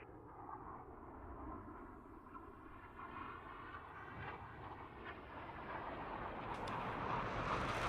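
The jet engine of a Blue Angels solo aircraft in DCS World makes a faint, steady roar with a low rumble that builds gradually toward the end.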